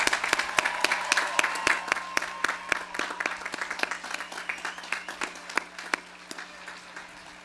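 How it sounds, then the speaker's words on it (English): Sustained audience applause at a high school graduation ceremony honoring the graduating seniors, a dense wash of many hands clapping steadily through the whole stretch, with some sharper nearby claps standing out before it gradually thins. "give our graduates who have finally made it a round of applause"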